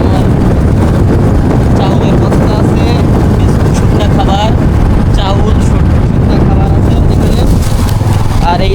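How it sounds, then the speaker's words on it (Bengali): A motorcycle carrying market groceries rides along with loud, blustery wind rush and a droning engine, while people talk over the noise. "আমাদের সাইকুল হাদিস মোটরসাইকেল চালাচ্ছেন"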